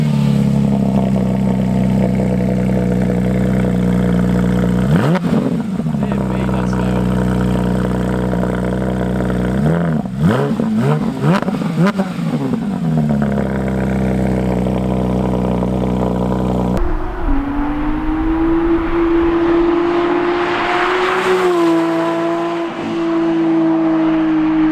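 Porsche 992 GT3 fitted with a JCR exhaust back box, close and loud. Sharp throttle blips rise and fall near the start and again in the middle, then a steadier high engine hum carries on with one brief swell.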